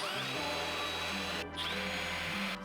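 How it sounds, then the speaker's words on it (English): A power drill whines steadily up close while boring a 1/16 inch starter hole for a head unit mount in a 2nd gen Toyota Tacoma, its motor holding a constant pitch with brief dips as it bites. "And we start drilling away. I'm using a 1/16 inch hole to start."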